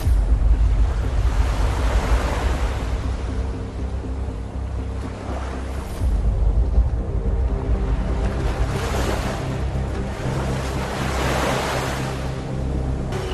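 Ocean waves surge and wash in slow swells, each rising to a loud rushing roar and then easing, with wind buffeting the microphone and no talking.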